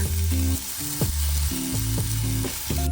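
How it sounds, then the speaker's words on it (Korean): Onions seasoned with salt and pepper hiss and sizzle steadily as they are stir-fried in a pan, the continuous frying noise running under a plucked melodic background tune. "양파는 숨이 살짝 죽을 정도로만 볶아주시면 됩니다"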